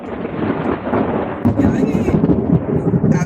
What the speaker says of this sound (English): Y'all heard the lightning.